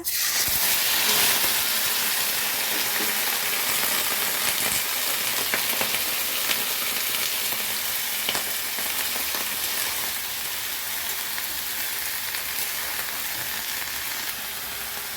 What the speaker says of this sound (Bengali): তো এখন আমি জিরা ফোড়ন দেব এখানে